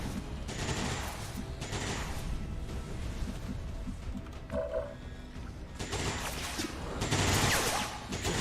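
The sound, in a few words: gunfire in XCOM 2 War of the Chosen video game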